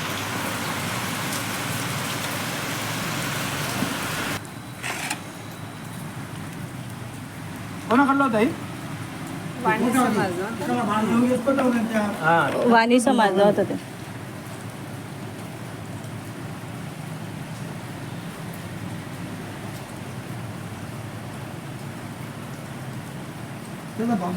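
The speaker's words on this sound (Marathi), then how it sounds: "पाणी खूप जोरात चालू तरी आम्ही जेवण सोडत" Heavy rain pours steadily as a dense hiss that runs the whole way through, with people talking over it in the middle stretch.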